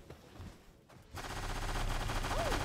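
Gunfire from the video game Palworld bursts in after a short lull, a dense, rapid, sustained volley of shots that stays loud and continuous to the end.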